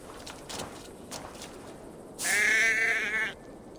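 A single loud, wavering sheep bleat from the video game Assassin's Creed Valhalla rises for about a second after some soft footsteps and ambient rustling.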